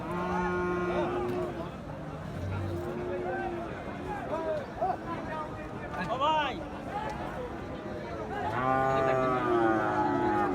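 Gir and Sahiwal cattle at a busy rural livestock market, several drawn-out moos rising over a crowd of people talking, with one loud bellow near the end.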